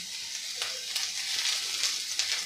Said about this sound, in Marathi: आणि कांदासुद्धा आपल्याला सोनेरी रंगावर परतून घ्यायचा आहे, भाजून घ्यायचा आहे